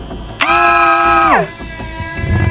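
A single loud, sustained scream of people in fear rising sharply and then dropping off after about a second, followed by murmuring voices; from an animated game.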